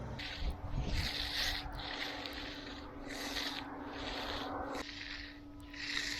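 A magnesium float is drawn by hand over wet concrete on a pool deck, giving soft rhythmic scraping strokes, each a faint hiss lasting about a second, with background hum throughout.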